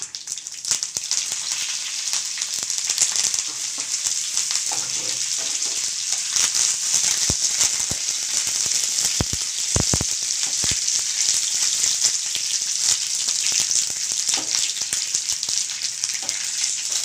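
Cumin seeds, dried red chilies and curry leaves crackle steadily in hot oil as a tempering for lemon pickle, a dense continuous sizzle with occasional sharper pops, close and loud throughout with no talking.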